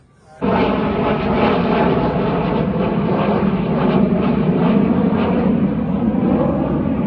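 An airplane at an airport gives off a loud, steady jet roar that starts abruptly and holds for several seconds, heard alone without talk.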